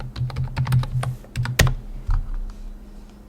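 Password typed on a computer keyboard during a Linux login: a quick run of close, crisp key clicks in an uneven rhythm, with one sharper press near the middle and a few softer taps after it, no talk.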